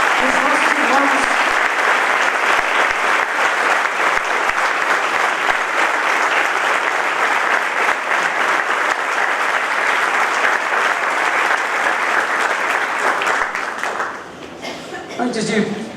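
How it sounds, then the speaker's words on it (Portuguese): A large audience at a Lutheran university convention gives steady, dense applause that carries on for about fourteen seconds, then thins out sharply into scattered claps and room noise. "aplaudindo a Jesus pela vida dos nossos irmãos"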